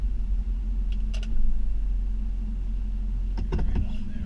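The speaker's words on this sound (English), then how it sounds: "I got to put the blade right up to the garage doors here, drag it out, try to back up" A pickup truck with a snow plow blade back-drags snow on a big concrete driveway, its engine a steady low rumble throughout, with a few brief scraping clicks.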